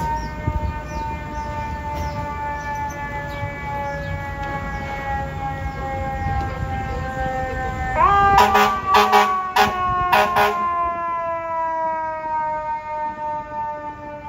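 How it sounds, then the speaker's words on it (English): Fire engine sirens wail along a New York street, loud and steady with layered rising and falling tones, joined near the end by a burst of sharp repeated horn blasts over general street noise. "More fire engines, oh my goodness."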